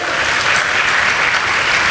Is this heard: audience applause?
yes